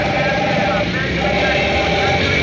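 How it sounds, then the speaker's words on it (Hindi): Trucks carrying animals to a livestock market rumble by at an idle, a steady, loud engine drone with vibration filling the scene, under windy outdoor noise. "ये ट्रक हैं जो कि जानवर वगैरह लेके जा रहे हैं कुर्बानी के लिए मंडियों में"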